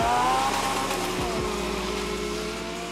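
Engines roar at high revs as a BRP Maverick 1000 Turbo races a custom buggy with a 2-litre K20 230 hp engine, a loud sustained drone whose pitch slides and shifts while the vehicles pass.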